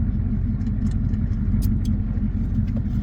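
A diesel Ford F-250 pickup truck pulls out of a downhill driveway in second gear, its low engine rumble steady and close throughout with no talking.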